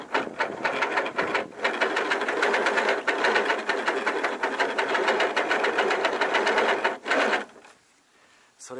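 A loud, continuous rattling gear whine comes from the pedal-driven, unloaded propeller shaft of a homemade folding catamaran. It runs steadily with slight fluctuations, then stops abruptly near the end.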